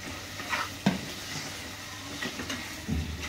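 Drumsticks and potatoes are stirred into a frying mutton curry, giving soft, intermittent stirring scrapes and a few spoon knocks against the pot over a low sizzle, with no talking.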